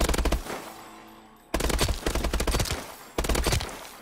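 Three loud bursts of rapid automatic gunfire in the video game Call of Duty: Advanced Warfare, each a tight volley of shots separated by brief pauses, close and punchy with echoing tails.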